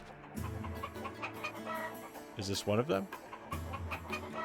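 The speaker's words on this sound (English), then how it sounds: "No, it's just a chicken." Chicken clucking in the video game Valkyrie Profile 2: Silmeria, a burst of short clucks over game music, with a person talking briefly beforehand.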